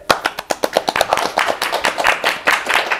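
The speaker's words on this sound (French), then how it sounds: "Applaudissez s'il vous plaît." A small group applauds steadily, the claps sharp and close with no talking.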